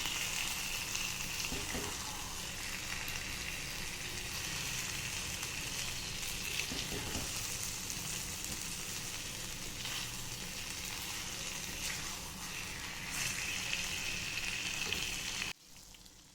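Egg masala curry with mashed tomato-onion paste over the eggs sizzles and fries steadily in a pan on the stove, a soft continuous crackle with occasional stirring scrapes and no talk.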